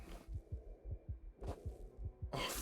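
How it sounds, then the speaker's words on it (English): A steady heartbeat from the video game Factorio thumps in regular low double pulses about every 0.4 seconds, with brief bursts of other game noise breaking in twice. "Okay, I hear my heartbeat."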